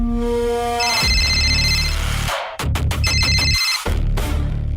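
Telephone ringtone during an outgoing call: a repeating electronic ring tone in bursts with short gaps, loud and close, with no talk over it.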